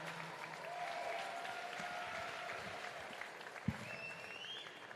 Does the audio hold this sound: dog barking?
no